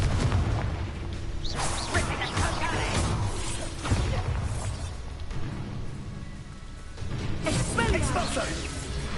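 Spell blasts from combat in the Hogwarts Legacy video game, loud bursts and whooshing impacts recurring every second or two over dense game effects and music, with a voice talking throughout.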